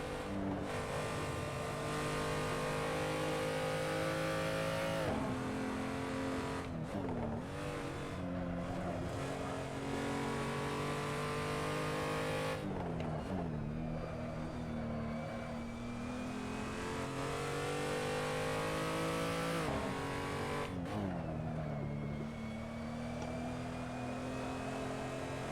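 A race car engine screams at full throttle in a racing video game, holding a steady high drone with sharp gear-change dips and re-climbs every few seconds, loud and continuous throughout.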